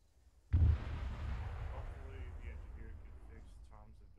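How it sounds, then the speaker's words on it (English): A missile launch in ArmA 3 erupts as a sudden loud blast, followed by a long decaying roar and rumble, with a voice talking faintly underneath. "It's just the missile just fired really slowly."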